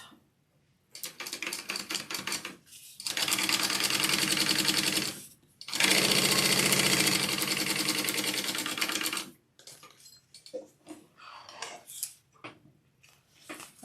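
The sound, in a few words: sewing machine basting the top of a bag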